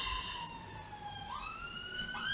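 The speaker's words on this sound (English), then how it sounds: "Apologies if you heard the ambulance." A distant siren wails with rising and falling tones, faint but continuous, behind a quiet room background.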